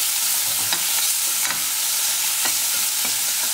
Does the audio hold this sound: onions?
yes